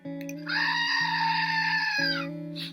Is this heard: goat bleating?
yes